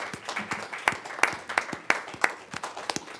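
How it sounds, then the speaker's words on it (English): Sparse applause for the Employee of the Year at a county board of commissioners meeting, a handful of distinct claps spaced irregularly over a soft room hum, fairly near and moderately loud. "Let's give her a round of applause as she's walking up."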